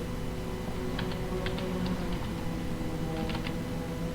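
Computer keyboard keys are pressed in a few scattered clusters of light clicks over a steady background hum, faint and with no talking.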